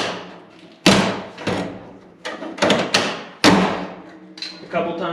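A series of loud thumps and slams as a 1963-1967 Corvette door is swung shut several times in quick succession, with brief pauses between each closing.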